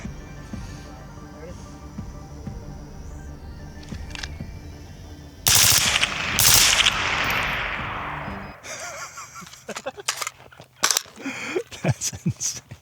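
A semi-automatic rifle firing 5.56 rounds outdoors, with a loud burst of sharp, echoing reports midway followed by a string of separate shots at uneven intervals, while people talk in the background.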